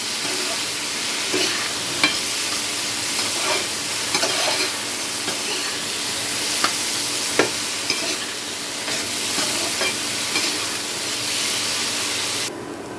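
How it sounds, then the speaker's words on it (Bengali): Red lentils being stir-fried with spices in a pan, an even sizzle and hiss with intermittent scraping stirs and light taps, close and continuous, no talking. "এখন ডালটাকে আমি একটু ভালো করে কষিয়ে নেব এই মশলার সাথে ডালটাকে খুব ভালো করে একটু কষিয়ে নিতে হবে"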